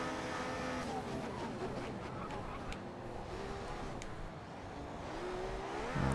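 Racing cars circling the track in an F1 racing video game at an Italian circuit, a continuous layered engine whine with rising and falling pitch as cars pass and accelerate, steady and fairly loud throughout.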